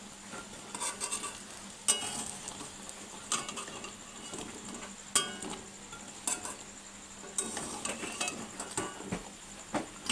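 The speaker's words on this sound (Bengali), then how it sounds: "তো দেখো আমার এখানে পকোড়াগুলো এখন ভাজা হয়ে গেছে। এখন আমি তুলে নেব।" Pakoras frying in oil, heard as a soft, crackly bubbling under a run of sharper scraping and clattering knocks that come every few seconds, fairly quiet and close, with no talking.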